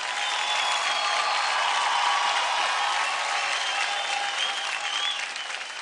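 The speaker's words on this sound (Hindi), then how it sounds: "जोरदार तालियां हो जाए कॉर्नल और सोनाली के लिए।" Sustained, loud applause from a studio audience at a dance competition show, a dense even wash of clapping that holds steady for several seconds before easing slightly at the end.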